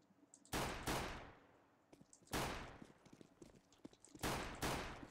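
Gunfire in the video game CS:GO: three loud, sharp volleys of shots spaced a couple of seconds apart, each ringing out into a trailing echo, with faint clicks and steps between them.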